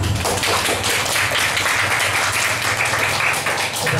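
An audience at a poetry night in Sidoarjo applauds a poet, a thick, continuous wash of many hands clapping at once, loud and even throughout with no talking on top.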